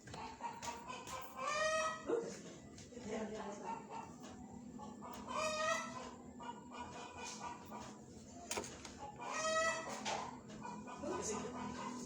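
Chickens cluck and a rooster crows repeatedly while a dog barks at times, with people talking in the background throughout.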